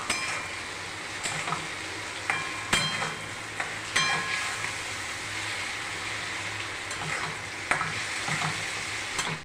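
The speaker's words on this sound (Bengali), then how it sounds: "এই ওটসটা এবার তেলের মধ্যে দিয়ে সবটা দিয়ে দিয়েছি" Oats fry in hot oil for oat khichuri, sizzling steadily and close by. Scattered scrapes and clinks of stirring break in at intervals.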